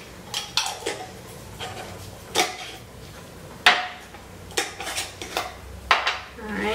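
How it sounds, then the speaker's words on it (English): A spoon scrapes and clanks against a pot while stirring butternut squash soup, making irregular metallic knocks and scrapes throughout, close and fairly loud. "now let's try and stir this a little bit again"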